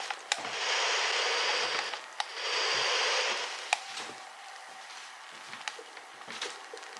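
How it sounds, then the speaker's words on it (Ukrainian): Two bursts of steady white-noise hiss come from a small speaker, each lasting over a second, separated and followed by light clicks and handling noises. "Це просто білий шум."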